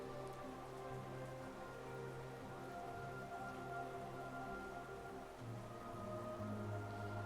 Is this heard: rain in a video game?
yes